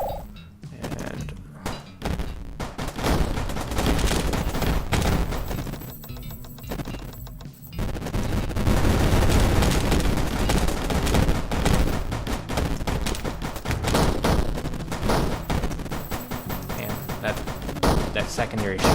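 Weapons fire in the video game Yawnoc in a dense, continuous barrage of rapid thumping shots and impacts, loud and unbroken with game music mixed in.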